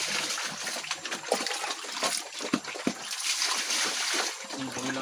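Water splashes and sloshes over a pig while it is bathed outdoors in the province. The splashing is steady and broadband, with a few sharper splats along the way and faint voices in the background.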